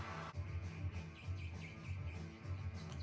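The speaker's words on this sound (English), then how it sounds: "sounds like a bird tweeting" Bird-like tweeting sounds within a rock song, light chirps riding over steady, dense band music throughout.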